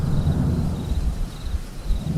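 Deep rumbling thunder rolls under a steady wash of rain, with faint insect chirps pulsing in the background.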